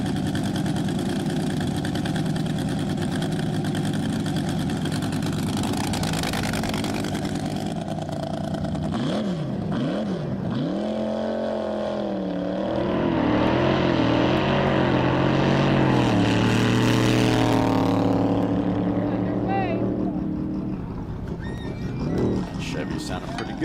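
A 468 cubic inch Chevrolet engine in an A fuel roadster runs on a dry lake racecourse at El Mirage, a steady loud drone whose pitch swoops and climbs midway as it pulls away, with someone talking throughout.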